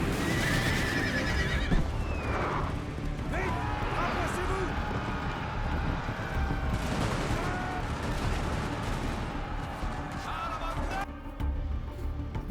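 Cavalry horses charge artillery in a Napoleon Total War battle, with repeated neighs and whinnies over a dense, continuous battle din of hooves and scattered gunfire, and voices mixed into the noise throughout.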